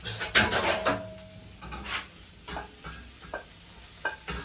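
Wild morel mushrooms and fiddleheads cooking in a pan for a quiche, heard as soft sizzling with a few scraping stirs and utensil clinks, one loud scrape near the start, then quieter intermittent taps.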